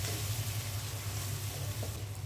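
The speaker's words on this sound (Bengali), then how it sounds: "মশলাটা ভালো করে কষিয়ে নিব।" Turmeric, chili, cumin, coriander and salt masala fries in a pan with a steady, dense sizzle, even and unbroken over a low hum, with no talking.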